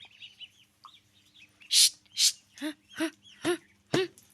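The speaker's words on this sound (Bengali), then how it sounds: "হাঁসের বাচ্চাগুলো খেদাই দাও তো।" Ducklings at a rural home give a run of sharp, high peeps and calls, several in quick succession, close by and fairly loud with no talk over them.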